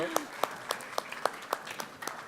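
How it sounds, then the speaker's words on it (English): Sparse clapping from a blockchain marketing panel audience, about ten distinct claps spaced roughly evenly over a couple of seconds, fairly faint and thin rather than a full ovation. "More applause, more applause."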